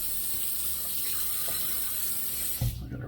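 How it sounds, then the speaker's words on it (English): Tap water runs steadily into a sink as hands are rinsed during a shave with a Feather DX shavette, a close, even hiss that cuts off sharply near the end. "I'm gonna rinse off my hands."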